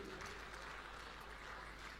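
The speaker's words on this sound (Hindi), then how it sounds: "एक बार ताली बजाकर मुझे आदेशित कर दीजिए" An audience at a Hindi poetry gathering (kavi sammelan) at a district exhibition in Bulandshahr claps steadily, a dense, even wash of applause heard from a distance for about two seconds.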